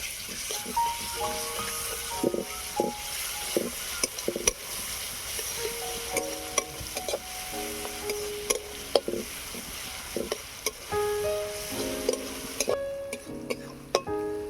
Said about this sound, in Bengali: পেঁয়াজ রসুনটাকে ভালো করে ভেজে নেব